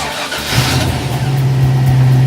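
A short bus engine cranks and catches, then settles into a loud, steady mid-pitched idle that builds slightly as the vehicle begins to pull away, close by and alone.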